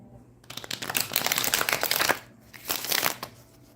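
A deck of tarot cards gets a butterfly shuffle: a dense, close riffling rattle that runs for about two seconds, pauses briefly, then gives a shorter second burst.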